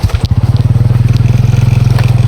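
A motorcycle engine idles nearby with a fast, steady, pulsing putter, loud and continuous with no voices.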